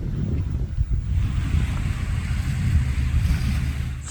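Ocean waves wash against the shore by a beach campsite on Muuido island near Incheon, a low continuous rumbling surge with wind buffeting the microphone, fairly loud and steady, no talking.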